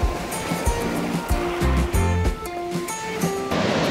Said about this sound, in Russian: Смотрите, какие сегодня волны.